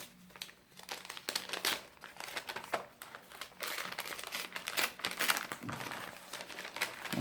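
An advent calendar gift is unwrapped from small paper printed with fir trees, giving close, continuous crinkling and rustling with quick crackly bursts throughout and no talk.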